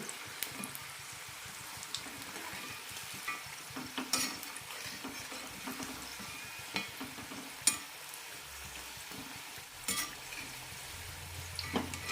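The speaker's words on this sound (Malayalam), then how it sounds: "ലോ ഫ്ലെയിമിലിട്ട് തന്നെ വറുത്തെടുക്കണം അപ്പോഴാണ് നല്ല ക്രിസ്പി ആയിട്ട് കിട്ടുള്ളൂ" Wheat-flour Punjabi samosas fry slowly in oil over a low flame, a soft, steady sizzle broken by intermittent stirring taps and utensil clinks.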